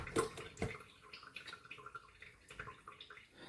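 Tap water running into a pan in a kitchen sink, a soft steady splash and trickle with a couple of sharper knocks near the start, fairly quiet and close.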